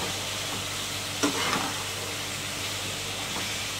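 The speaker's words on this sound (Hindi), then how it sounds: "और मीडियम फ्लेम पे फ्राई कर लेंगे इसको।" Spiced chicken with black pepper and garam masala frying in a pan over a medium flame, giving a constant close hiss and sizzle with a few soft stirring knocks.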